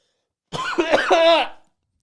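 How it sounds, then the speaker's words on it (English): One loud, drawn-out cough, close and deliberate, rising to a rasping peak before cutting off into silence. "That was like the most over-exaggerated cough of all time."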